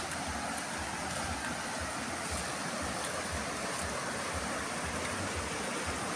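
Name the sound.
flowing river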